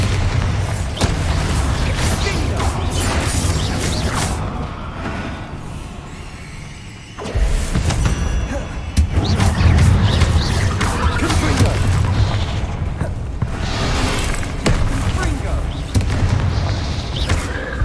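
Repeated booming spell blasts and crashes from Bombarda in the Hogwarts Legacy video game, loud and dense throughout, layered with combat effects and shouted spell voices, with a brief lull before the barrage resumes.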